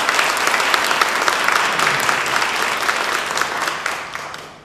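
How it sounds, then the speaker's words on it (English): Sustained applause from a banquet audience honoring county teachers at an awards dinner, dense and steady clapping filling the room, slowly tapering off near the end. "Let's give all of our teachers in Pickens County a big round of applause."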